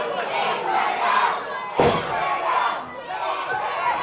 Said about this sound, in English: this Courtenay crowd is loud tonight